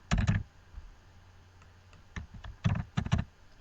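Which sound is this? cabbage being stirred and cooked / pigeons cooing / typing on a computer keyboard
typing on a computer keyboard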